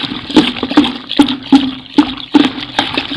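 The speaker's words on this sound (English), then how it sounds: "we begin to stir it" Homemade multi-purpose liquid soap mixture being stirred, giving a rhythmic series of wet sloshing strokes at about two or three per second, close and fairly loud, with no talking.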